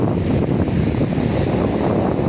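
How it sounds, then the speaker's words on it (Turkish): Choppy waves on Lake Ohrid churned by strong wind, a steady broadband wash with wind buffeting the microphone, continuous and fairly loud with no talking. "Ohri'nin dalgalı suları arkadaşlar."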